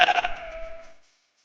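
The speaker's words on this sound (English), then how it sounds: "This is Sheep." A single sheep gives one clear, close bleat lasting about a second, wavering and then trailing off into silence with nothing else around it.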